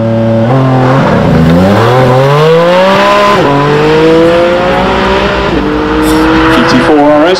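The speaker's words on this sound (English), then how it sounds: "GT4 RS full launch." A Porsche GT4 RS makes a full launch at the Heveningham Concours of Elegance 2024. The engine roars loud and close, its pitch climbing in sweeps through several upshifts.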